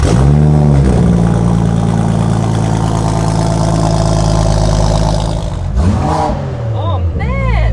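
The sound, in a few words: concept car engine revving through exhaust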